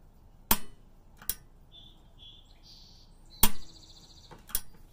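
Several sharp, loud clicks from the gas igniter of a Roccbox pizza oven come singly at irregular intervals, with faint tones and quiet background between them.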